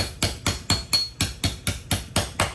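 Brake caliper pins for ZL1 brakes on a 1969 Camaro are driven out by hammering on a Torx bit, a steady series of about ten sharp metallic strikes, close and loud, evenly spaced about a quarter second apart.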